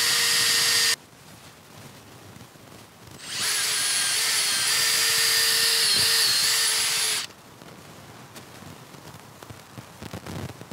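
A power tool wet-sands an Audi headlight lens with 800-grit paper, its high whine running steady for several seconds between quieter stretches with the motor idling down.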